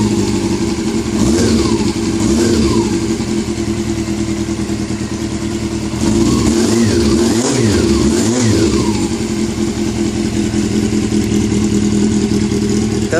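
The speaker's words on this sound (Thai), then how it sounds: "ถ้าไม่สตาร์ทนานมาสตาร์ททีเดียวติดมันก็เวอร์ไปหน่อยนะฮะ" An SF400 engine running after a long time without being started, revving loudly and steadily with repeated rising throttle blips over a constant close mechanical roar.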